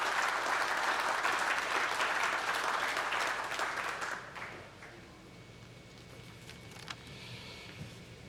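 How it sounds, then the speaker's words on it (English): An awards-ceremony audience breaks into a sustained round of applause as a minister is welcomed, loud at first and then thinning into scattered claps and faint crowd noise. "Let's have a round of applause as we welcome the Honourable Mark Patterson"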